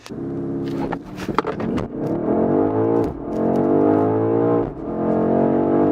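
A 653-horsepower BMW XM hybrid in four-wheel-drive sport mode accelerates hard, its engine note rising steadily through several gears with brief dips at each shift, loud and close from inside the cabin.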